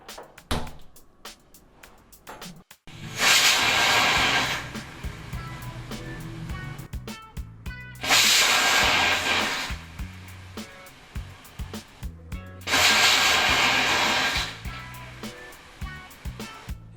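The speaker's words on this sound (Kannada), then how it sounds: "ಈಗ ಕುಕ್ಕರ್ 3 ವಿಸಲ್ ಬಂದಾಯಿತು." A pressure cooker on a stove, cooking rasam, whistles three times, each a loud, sustained hissing blast lasting a second or two, separated by quieter stretches of bubbling kitchen noise.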